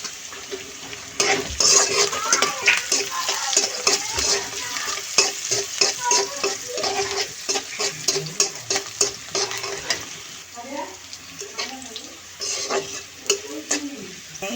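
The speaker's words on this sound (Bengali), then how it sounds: "এই যে শাকগুলো ভাজি করবো।" Leafy greens frying with garlic in a hot pan, a steady close sizzle broken by frequent clattering stirs of a spatula against the metal, no voices.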